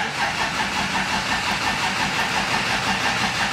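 A Triumph TR4 with SU carburettor and choke pulled out, engine cranking and catching into a steady, loud, close running note with no pause or talk.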